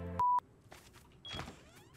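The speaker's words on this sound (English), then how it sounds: "Oh, you want me to do the beep beep?" In the survival game Rust, a quiet electronic beep sounds, followed by a brief second tone and a faint mechanical whir and rustle.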